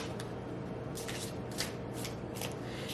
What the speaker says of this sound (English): Excuse me if my shuffle is a little like messy